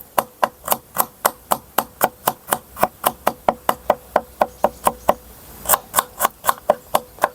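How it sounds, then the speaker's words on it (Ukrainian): A knife chops crushed garlic cloves on a board in a steady, fast series of sharp taps, about three per second, close and clear with a short pause near the end. "Так, часник ось так. Розчавлюємо і нарізаю."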